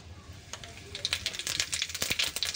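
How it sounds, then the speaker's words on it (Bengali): Cumin seeds dropped into hot oil for a duck curry crackle and sizzle in a rising, dense patter of sharp pops, fairly close and steady. "তো তেলটা কিন্তু গরম হয়ে গেছে। এবার দিয়ে দেবো আমি জিরা"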